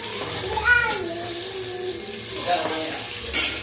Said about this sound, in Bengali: দেখো বিরিয়ানির জন্য এখানে আলু টালু ভাজছি